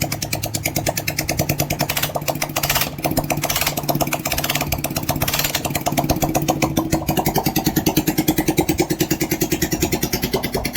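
A rebuilt Bajaj CT 100 motorcycle engine runs with the silencer removed, a loud, rapid, even exhaust beat that holds steady close to the mic for the whole stretch, with no talk.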